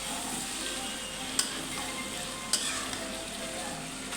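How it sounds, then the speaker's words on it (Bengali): Bitter gourd frying in a pan gives a steady, even sizzle as it is stirred, with two sharp spatula scrapes against the pan standing out. "এইভাবে সব দিয়ে আমি এখন নেড়ে চেড়ে নেব।"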